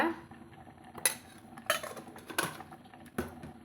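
A metal spoon scooping chili powder into a pot of onion leaf sambar gives four sharp, separate clinks against the vessel, close and fairly quiet, in an otherwise quiet kitchen.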